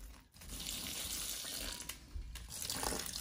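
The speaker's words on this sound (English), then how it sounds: "Adding water to the substrate." Water pours steadily into the substrate of a turtle enclosure set up for black-breasted leaf turtles, a soft continuous splashing trickle heard up close with no voices.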